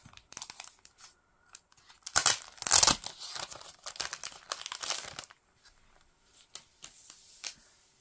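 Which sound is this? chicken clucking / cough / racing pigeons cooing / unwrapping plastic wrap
unwrapping plastic wrap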